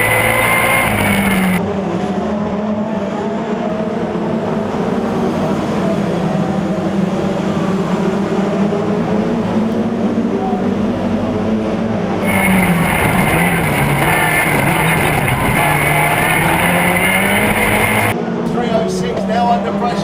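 Race cars, numbers 306 and 43, roar side by side up the home straight of a circuit, a loud sustained engine drone lasting throughout with a commentator talking over it.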